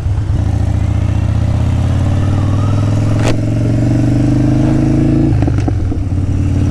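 A Harley-Davidson Street Bob motorcycle engine runs close by at a low, steady idle-like throb with a rhythmic pulse, continuous and loud, with a sharp click midway and a slight change near the end.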